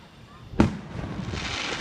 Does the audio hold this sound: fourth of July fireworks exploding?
yes